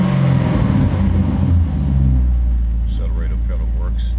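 A 2006 Chevrolet Corvette C6 engine revs up loud and close with a deep low rumble, then settles into a steady idle hum; faint talk is heard near the end.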